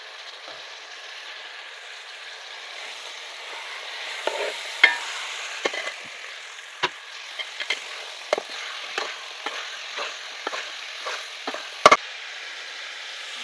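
Bitter gourd pieces and tomatoes cook in a pan over a soft constant sizzle, while a spoon scrapes and taps against the pan in irregular strokes that grow busier toward the end.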